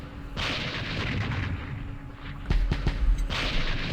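Artillery fire in the Vietnam war strategy game Campaign Series Vietnam, set at Dien Bien Phu: a sustained rumbling barrage followed by several sharp, heavy booms in quick succession, loud and close with no talking.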